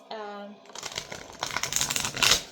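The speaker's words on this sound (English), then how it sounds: "Let's shuffle these this way." A deck of tarot cards being shuffled by hand, a dry riffling and crinkling that builds in bursts after a short tone at the start.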